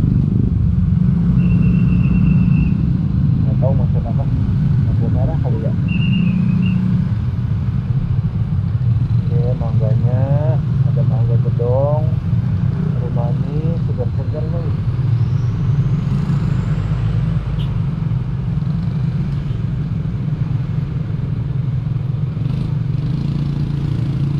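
Jammed city traffic in Cirebon, with motorcycles and cars idling and creeping forward, makes a constant loud engine rumble. Short horn beeps and scattered clatter rise over it.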